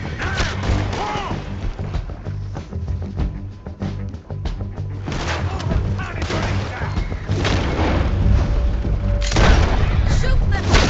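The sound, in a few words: gunfire in video game Red Dead Redemption 2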